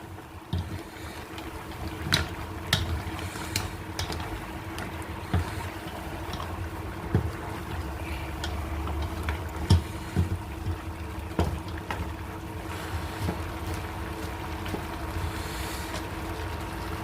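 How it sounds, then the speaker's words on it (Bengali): Goat meat frying in a pan with spices, a steady low sizzle and bubbling broken by sharp clicks and taps of utensils against the pan, no talking. "ভাজা ভাজা হচ্ছে"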